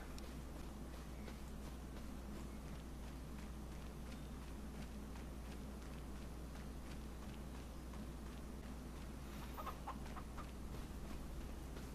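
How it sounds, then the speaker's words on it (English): Small chickens clucking on a homestead farm in Farming Simulator 25, soft scattered clucks over a steady low engine-like drone and outdoor ambience. "Look at all the little tiny chickens."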